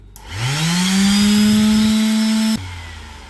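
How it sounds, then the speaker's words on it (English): An electric vibrating sander whirs up to speed, holds a loud steady buzzing hum for a couple of seconds, then abruptly shuts off. "this thing vibrates"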